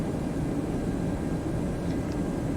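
A steady, low airplane engine drone from a flight simulator hums continuously at an even level, a broad rumbling roar with no talking over it.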